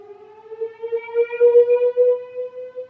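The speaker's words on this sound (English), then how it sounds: "testing the tornado warning siren" A tornado warning siren test wails in a steady, sustained tone with wavering loudness, sounding distant and alone.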